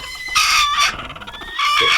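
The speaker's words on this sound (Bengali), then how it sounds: "এখানে আমার একটা মুরগি আছে" A chicken calls loudly and close up in several harsh, drawn-out squawks and clucks, with brief pauses between bursts.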